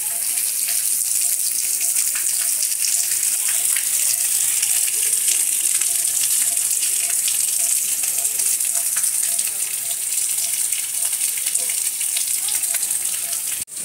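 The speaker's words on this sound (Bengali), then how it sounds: "সিংহের মুখ থেকে বার হওয়া এই ঝর্ণার জল দিনরাত্রি সবসময় পড়ে যাচ্ছে" Spring water from Susunia hill in Bankura pours steadily from a lion-mouth spout, a constant hissing splash that stays even and close throughout with no break.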